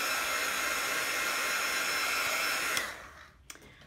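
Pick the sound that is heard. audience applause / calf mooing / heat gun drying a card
heat gun drying a card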